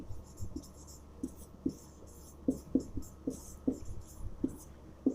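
Handwriting a definition on a classroom board: a steady series of close tapping, scratching strokes in an irregular rhythm, with no talking.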